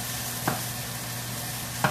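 A half pound of plain breakfast sausage sizzles steadily as it browns in a pan, with two brief scrapes of stirring standing out against the even hiss, close by and with no talk.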